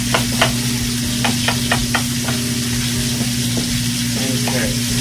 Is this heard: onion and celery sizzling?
yes